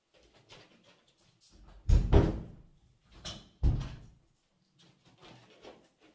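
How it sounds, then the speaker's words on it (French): A door is pushed shut indoors, with a couple of heavy thuds and scraping movements, the loudest knock around the middle, and faint handling noises before and after. "je vais aller fermer la porte."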